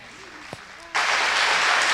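Debate audience bursting into loud, dense applause after a short murmur of voice, the clapping continuing steadily to the end.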